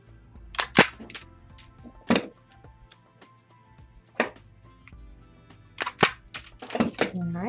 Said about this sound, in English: I'm going to staple a few more